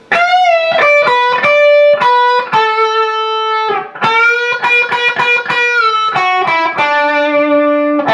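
An electric guitar with distortion and effects plays a fill from a song, a run of sustained bending notes and quick changes, loud and upfront, with no voice.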